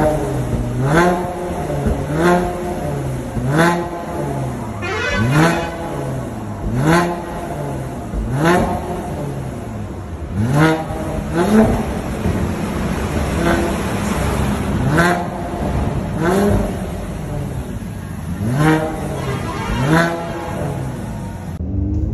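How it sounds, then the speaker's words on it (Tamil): A Mercedes C43 AMG with a Stage 2 tune and decatted exhaust revs repeatedly, loud rising and falling engine blips in a steady rhythm, close by with no talk over it. "அந்த எக்ஸாஸ்ட் வந்து பார்த்தீங்கன்னா டிகேட் பண்ணியிருக்காங்க, வேறு லெவலில் சவுண்ட் இருக்கும்"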